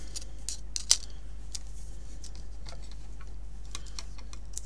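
A hand-cranked die-cutting machine works through a paper flower, making faint irregular clicks and ticks, with one sharper snap near the start, over a low steady hum.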